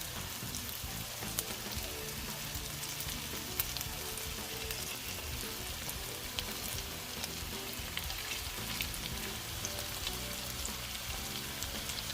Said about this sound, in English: cook them for a couple of minutes on one side and then a couple of minutes on the other side